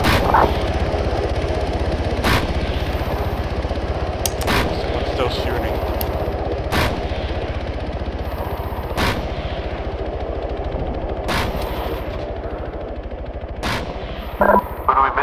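Gunfire in ARMA 3 rings out as repeated sharp shots over a constant low engine-like rumble, with isolated cracks spaced every couple of seconds and voices talking at times underneath.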